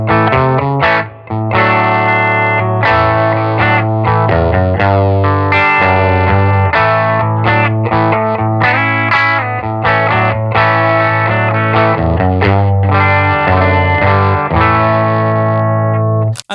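An electric guitar played on its bridge pickup through a Silktone Echonaut tube amp in its cleaner first mode rings out in loud, continuous chords and sustained notes with a honky, slightly driven tone.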